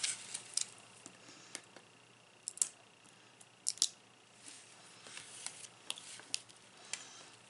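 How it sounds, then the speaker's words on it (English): Scissors snip through paper to cut handmade craft embellishments loose, giving a handful of faint, sharp clicks and snips spaced irregularly over quiet room tone, with no talking. "So let me cut a couple more of those loose."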